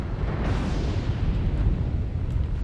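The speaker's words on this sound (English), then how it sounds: "Oh, and I just walked right into artillery again." An artillery strike in MechWarrior Online lands close by, a heavy, rumbling blast that swells and rolls on without letup for a few seconds.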